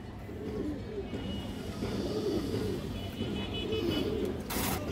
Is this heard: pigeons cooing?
yes